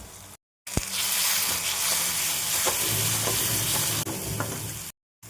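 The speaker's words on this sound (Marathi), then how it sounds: "कांदा आणि टोमॅटो चांगलं फ्राय करून घ्यायचं आहे." Continuous sizzling of onion and tomato frying in a pan with spices, with occasional spatula scrapes and clicks, broken by two brief silent gaps.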